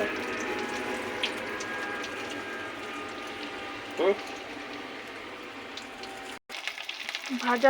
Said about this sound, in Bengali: আমি এখন প্লেন করেই ভাজছি